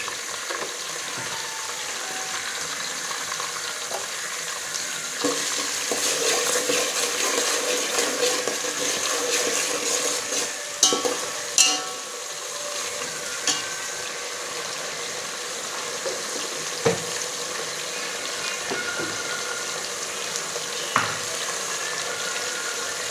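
Onions sautéing in oil in a pan toward golden brown, a continuous close sizzle with occasional spoon scrapes and knocks against the pan, no talking.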